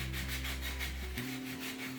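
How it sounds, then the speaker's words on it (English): Rhythmic scratchy rubbing of sandpaper on the edges of pine wood pieces, steady back-and-forth strokes close up, over a low hum. "he's going to take his sandpaper and he's going to go around the edges of each piece of wood"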